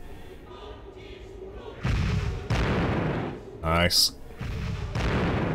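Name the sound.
dreadnought firing two shots, Warhammer 40,000: Chaos Gate video game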